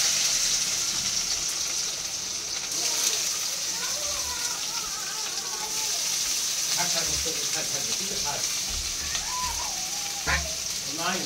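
Food frying in a pan in a home kitchen makes a continuous crackling sizzle throughout, with a person talking over it at intervals.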